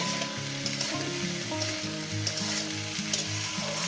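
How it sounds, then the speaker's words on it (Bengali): Ivy gourd frying with egg and turmeric in a pan, giving a steady bright sizzle under a hum of repeating low tones. "এবার এটাকে সুন্দর করে আমি ভালো করে লাল লাল করে ভেজে নেব"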